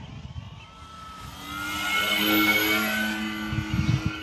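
An FMS Maule 1500mm RC airplane's electric motor rises in pitch and volume as it rolls down the runway, holding a steady whine that swells, then eases slightly with the craft moving past nearby.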